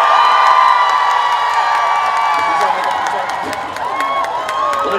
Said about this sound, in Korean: 큰 박수 한 번만 주시겠어요?